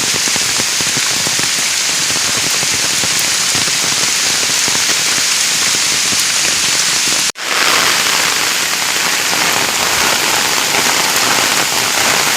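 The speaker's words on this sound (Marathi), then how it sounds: "पाऊस भरपूर पडतोय" Heavy monsoon rain pours in Konkan in a loud, unbroken hiss, cut by a single sharp break partway through before the downpour resumes just as strongly.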